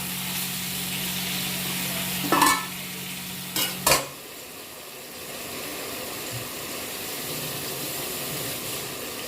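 Brinjal frying in a pan, a steady hiss of sizzling oil broken by a few sharp scraping stirs of a spatula midway, then the frying continues quietly alone.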